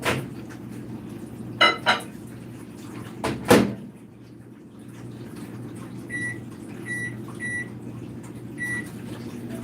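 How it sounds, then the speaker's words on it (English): A steady low microwave hum runs throughout, with a couple of door clunks early on and several short electronic beeps near the end. "I put it in the microwave for 30 seconds."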